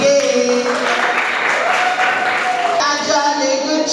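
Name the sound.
audience applause at school assembly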